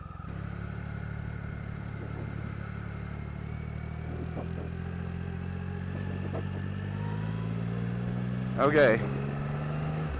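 A 2016 Triumph Rocket III Roadster motorcycle on a test ride, its engine droning low and steady with the pitch slowly climbing as it pulls harder, a rider speaking briefly over the engine and a short clatter near the end.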